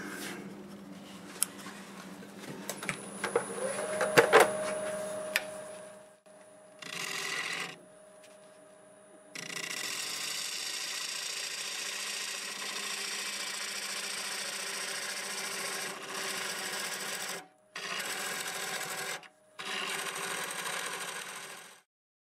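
A wood lathe turns a stubborn black oak bowl in reverse while the wall is cut through a knotty or rotted area. A steady motor drone carries scraping cuts that stop and restart in several bursts, close and fairly loud.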